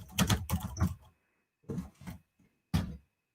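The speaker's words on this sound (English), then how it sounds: "And I can type in anything I want." Fingers typing on a computer keyboard, bursts of quick close key clicks separated by short pauses, with no voices.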